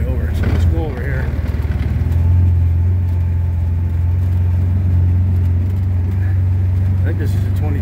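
A 2021 CFMoto UForce 1000 utility vehicle engine idles with a steady, close low rumble that holds even throughout, a few faint voices showing over it.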